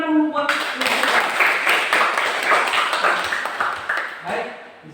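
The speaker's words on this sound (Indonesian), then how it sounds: "Tepuk tangan dulu buat." Classroom applause from students, a dense burst of many hands clapping that fills most of the clip at close range before tapering off near the end, with a voice briefly audible at the start.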